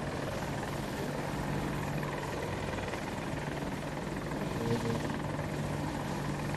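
An AH-64 Apache helicopter in a video game drones with a steady rotor hum at moderate distance, constant and unbroken with no voices.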